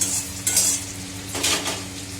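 Onions stirred and fried in a pan until reddish-brown, with a continuous sizzle beneath several bright scraping bursts of a utensil against the pan, close and fairly loud.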